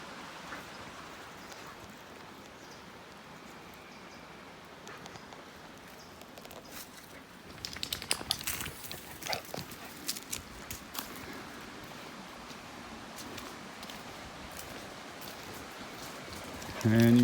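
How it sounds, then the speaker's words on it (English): A creek runs through ranch pasture under big old hemlock trees, giving a steady, hissing rush of flowing water that holds evenly throughout, with a few faint patters and knocks in the middle. "And right there's the creek."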